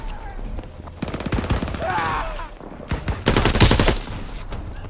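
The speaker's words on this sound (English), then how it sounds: "Enemy mortar fire incoming!" Gunfire and mortar fire in a Call of Duty: World War II multiplayer match: loud rapid bursts of automatic weapons, rattling volleys and heavy impacts, with a radio-style announcer voice briefly under the chaos.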